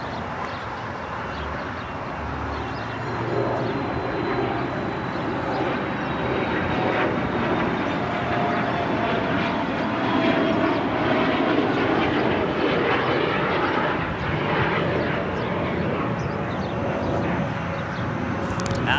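A jet airliner roars on runway 25 right at LAX after dark, a steady, loud engine rumble and hiss that swells slightly midway and holds for the whole stretch without voices.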